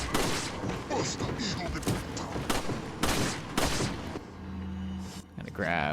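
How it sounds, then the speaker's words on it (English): Shotgun blasts and other gunfire from the Resident Evil 4 video game: loud, repeated sharp bangs over busy game audio. A tonal game sound rises near the end. "Hit you with a shotgun blast."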